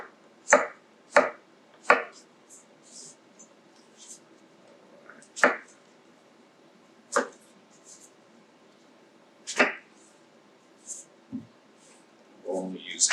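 Knife chopping zucchini on a cutting board for a vegetable medley, a series of sharp, separate cuts spaced a second or more apart, close and clear over quiet, with a voice talking in between.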